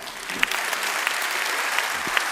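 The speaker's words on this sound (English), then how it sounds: "of course applaud" Audience applause fills a gala hall for a high school football awards night, a steady wash of many hands clapping at even volume with a few sharper claps standing out.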